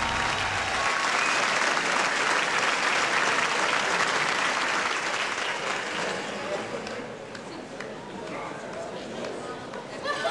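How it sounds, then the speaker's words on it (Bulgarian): A studio audience applauds Zlatka Dimitrova from Burgas, named PlayStar 2009, with loud, dense clapping that holds evenly and then eases slightly toward the end. "Аплодисменти за Златка."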